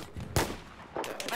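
Gunfire in the Battlefield 4 video game: a sharp, loud shot burst stands out, then a second burst of firing follows about half a second later over a busy background.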